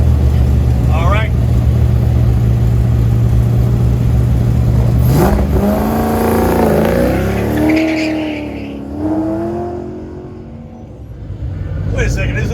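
A Corvette from the Sheely Collection idles loudly at an autocross start, then revs and accelerates hard with rising engine pitch through gear changes before pulling away and fading, amid outdoor event noise.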